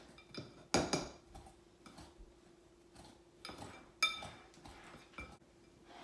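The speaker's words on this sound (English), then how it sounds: "I'm going to use my pastry cutter" A pastry cutter works butter, flour and brown sugar together in a bowl for an apple pie, giving light metallic clinks and taps against the bowl at irregular intervals, with two sharper knocks standing out, close and quiet, no talking.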